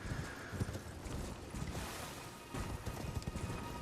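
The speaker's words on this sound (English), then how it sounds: "it's a battle with a boss that's on the horse" Rapid hoofbeats of a galloping horse thud continuously beneath a dense wash of noisy Elden Ring game sound.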